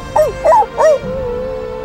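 A street dog in Jerusalem gives three short, close whimpering yips in quick succession, followed by a faint lingering whine.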